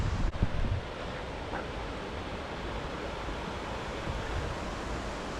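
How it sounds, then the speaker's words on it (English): A steady, distant roar of river water rushing below a Yosemite hiking trail in autumn, continuous broadband wash with a brief gust or bump at the start and no voices. "there is a roar of water down in the river"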